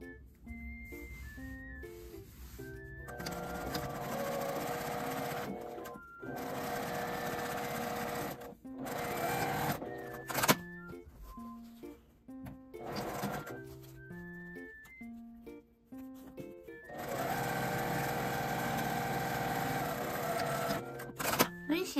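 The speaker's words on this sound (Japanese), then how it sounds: "両端を1センチの縫い代で縫います。" Sewing machine stitching the side seams of a small spring-clasp drawstring pouch with a 1 cm seam allowance. Several runs of rapid mechanical stitching separated by short pauses, moderately close, over a faint tonal background.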